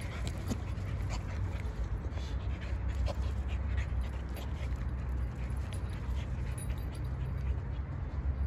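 Pit bulls pant hard after play, a steady close rhythm of rapid breaths with a faint whimper now and then.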